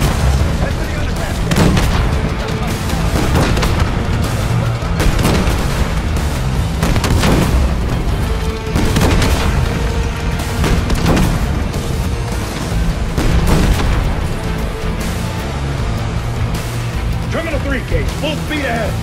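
Tank cannon blasts and explosions ring out in the Call of Duty: Black Ops 6 campaign around a T-72, with loud booms repeating every second or two over constant rumbling combat noise and frequent gunfire. Speech is heard beneath the noise.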